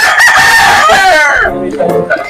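A rooster crows loudly and close by in a long, wavering cock-a-doodle-doo around four o'clock, with a few clucks and a fainter call trailing after, while ginataang puso ng saging is being prepared.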